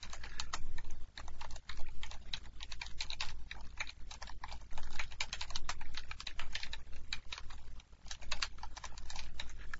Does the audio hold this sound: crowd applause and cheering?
no